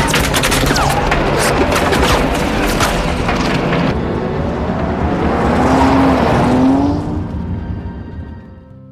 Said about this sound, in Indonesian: pemberontak menembaki mobil yang mereka naiki